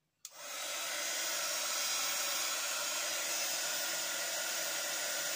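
A craft heat tool clicks on and blows hot air onto homemade action ink, a loud, steady, breathy whoosh that starts abruptly and holds unbroken for about five seconds with no voices.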